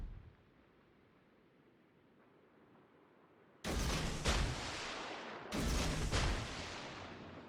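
Two loud artillery blasts from a video game boom out after a few seconds of low ambient rumble, each followed by a long, noisy decaying roar.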